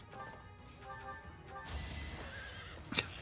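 Horses whinnying in the video game Fire Emblem: Three Houses, a couple of neighs over hoof clip-clops and game effects, followed by a sharp crashing hit near the end.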